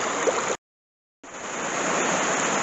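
A small waterfall of running water on a walk near Lake Windermere gives a steady, close, broadband rush, broken by a brief silent gap before the flow resumes at an even level.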